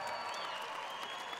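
An audience applauds at a live Danish charity fundraising show, with dense, steady clapping that fills the whole moment at an even level.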